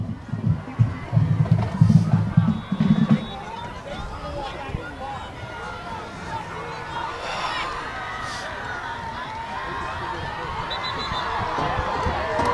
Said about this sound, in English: The Ramapo crowd loud as they've been all game.